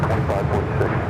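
A Delta Boeing 757-200 jet takes off at LAX, a broad, steady roar of engine noise heavy in the low end, loud and continuous for just over a second.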